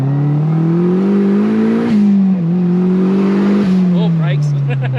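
Mazda Miata pulling hard in second gear, its engine note climbing steadily and close up inside the cabin, dipping briefly around a shift-like break before rising again, with faint voices underneath.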